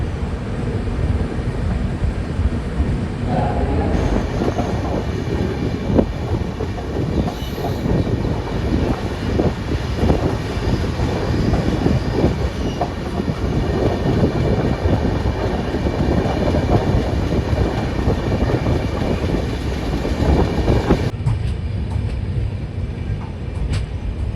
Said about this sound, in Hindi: शेगांव को हमारी ट्रेन काफ़ी धीमी रफ्तार से स्किप कर रही है